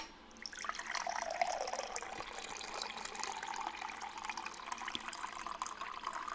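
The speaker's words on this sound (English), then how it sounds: "Let me pour myself some water for a second." Water is poured from a tap or jug into a big cup at home, a faint steady trickle that rises slightly as the cup fills, alone with no talking.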